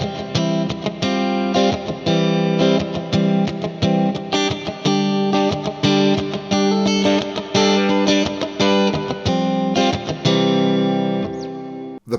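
An electric guitar plays chords through a Universal Audio UAFX Lion pedal on its Moonish Clean setting, driven and roomy with a spacious ambient reverb, strummed in steady repeated hits for several seconds.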